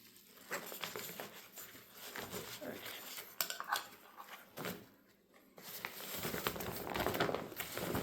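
Metal clinks, scrapes and crinkling as a BRS stove is packed into a Sea to Summit drinking cup, a run of close, busy handling noises of moderate loudness.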